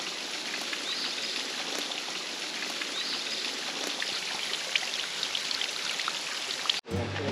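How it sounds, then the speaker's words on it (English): A small waterfall beside a hiking trail at Cummins Falls gives a steady, moderately faint rush and patter of falling water, continuous throughout, ending with a brief handling thump. "There's a little tiny waterfall that we're going to be walking by."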